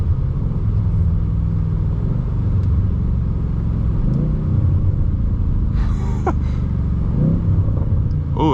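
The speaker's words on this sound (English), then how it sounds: "I'm gonna show you guys some downshifts here." A 2025 BMW M8 Competition rumbles close and loud from inside the cabin as it downshifts, the engine note stepping up with rev blips and a few sharp exhaust crackles and pops breaking through the drone.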